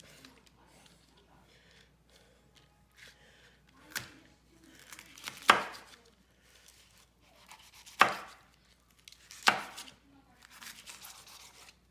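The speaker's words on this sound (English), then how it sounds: "now we gotta dice these up to the smallest amount" Kitchen knife dicing ingredients for a home-cooked chili on a cutting board, with soft tapping chops and four louder, sharper strikes spaced a couple of seconds apart, fairly close, against quiet room tone.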